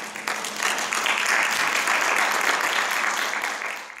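Audience at an international education-technology conference in Seoul applauding a speaker's introduction, a broad sustained burst of clapping that swells and holds, then tapers slightly at the end.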